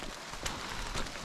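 Rain falls steadily on the Appalachian Trail, a soft, even patter at moderate volume with a few sharper drops and no talking.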